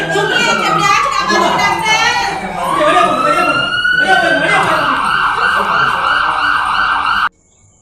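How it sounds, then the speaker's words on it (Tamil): Ambulance siren wails loud and close in a Tamil film scene, rising and falling tones sweeping continuously, with voices under it before cutting off abruptly at the end. "ஆம்புலன்ஸ் சத்தம் கேட்குது"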